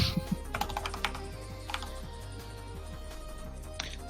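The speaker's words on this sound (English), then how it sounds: "also Cat just jumped on my keyboard, so I couldn't really talk at the time" Keys clattering on a computer keyboard as a cat walks across it, a busy run of irregular clicks and taps throughout, close and fairly quiet, with a low steady hum beneath and no talking.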